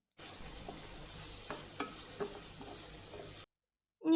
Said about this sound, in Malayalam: 2 സവാള നീളത്തിൽ അരിഞ്ഞത് ചേർത്ത് നന്നായി വഴറ്റി മാറ്റി വയ്ക്കുക